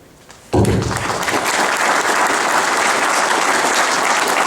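Full audience applause for the speakers at a forum on mining, development and national security, bursting in suddenly after a quiet moment and continuing loud and sustained throughout.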